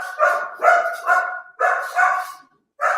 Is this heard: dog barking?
yes